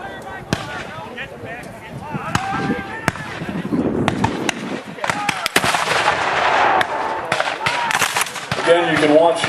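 Civil War re-enactment battle with artillery cannon and musket fire, several sharp booming reports and crackling volleys, loud and close, under the talk of a commentator and crowd.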